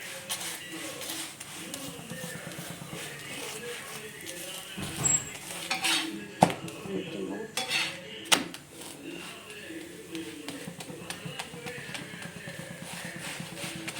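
Chapati cooking on a hot pan for egg masala chappathi, with clinks and scrapes of a utensil on the pan and a faint sizzle as the flatbread is turned, some background voices.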